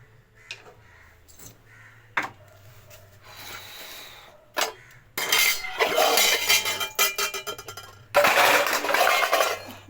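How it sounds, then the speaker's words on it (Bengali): In a home kitchen, metal pots and utensils are set down and shuffled into place, making sharp scattered clinks and clatters. Short bursts come in the quiet stretches, then longer, louder bouts of rattling follow, over a low steady hum. "বাসনগুলো ঠিক করে রাখি"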